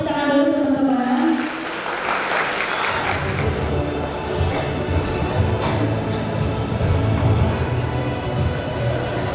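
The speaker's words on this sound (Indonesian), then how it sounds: "Boleh tepuk tangan dulu teman-teman" Audience applause fills a graduation convocation hall, starting after a trailing voice and swelling into steady, dense clapping from a large crowd that continues to the end.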